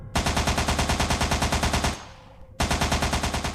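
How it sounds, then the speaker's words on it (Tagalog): Rapid bursts of gunfire, loud and close, with evenly spaced shots in a fast continuous rhythm that break off briefly and then resume just as loudly. "sunod-sunod na putok ng barilang pumaimbabaw sa kabundukan ng Sierra Madre"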